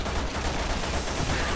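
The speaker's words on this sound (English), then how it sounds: "I heard gunfire." Dense, continuous gunfire in Resident Evil 6 crackles in a rapid, noisy barrage, loud and unbroken from start to finish.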